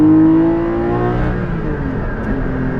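Porsche Cayman GT4 RS flat-six revving under throttle modulation, a close rising and falling mechanical howl that sustains for a few seconds with no talk over it.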